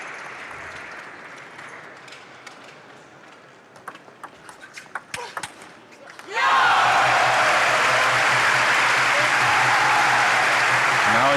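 Loud, sustained applause from a table tennis arena crowd at the 2012 World Team Championships women's quarterfinal, bursting in abruptly after scattered claps and thin crowd noise, filling the rest of the clip at steady high level.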